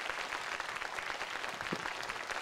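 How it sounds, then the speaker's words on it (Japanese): Steady applause from the audience at an AKIRA talk show, a dense wash of many hands clapping at even loudness throughout, heard from a distance in a hall. "どうぞ改めて拍手を。"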